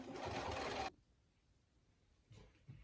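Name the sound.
sewing machine top stitching a wallet interior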